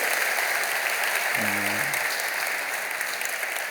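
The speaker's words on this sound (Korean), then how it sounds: "박수로 환영하시기를 바랍니다." Church congregation at Kwanglim Church applauding to welcome newly baptized infants during a Korean worship service: a dense, steady wash of clapping throughout, with a brief low tone in the middle.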